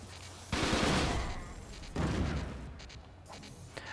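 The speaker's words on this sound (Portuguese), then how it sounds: "Ah, não, atirei com a arma errada ainda." Two loud bursts of gunfire fired with the wrong weapon in the video game Fighting Force 2, each a dense blast that trails off, the second following about a second and a half after the first.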